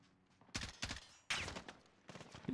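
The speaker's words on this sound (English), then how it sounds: "Oh, someone's shooting him behind." Gunfire bursts in Call of Duty's Verdansk map, three loud separate volleys of rapid shots with short quiet gaps between them.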